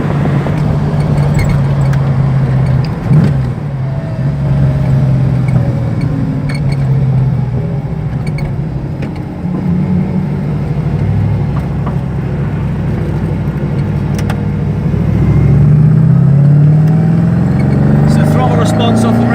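An MGB GT V8 with a 3.5 engine and an Edelbrock carburettor cruises on the road. It gives a steady, fairly loud drone with slight swells in pitch, plus road and wind rumble, and someone talks throughout.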